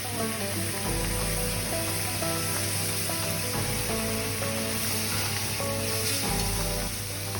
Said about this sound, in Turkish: başta tereyağı olmak üzere saydığımız malzemeleri tavamızın içine atıyoruz